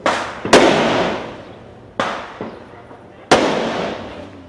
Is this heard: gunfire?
yes